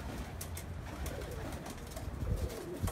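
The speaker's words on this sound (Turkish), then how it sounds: "Kuşların hepsi ortada." Pigeons in a loft coo in a low, continuous murmur, several birds overlapping with soft rumbling calls throughout, a little louder toward the end.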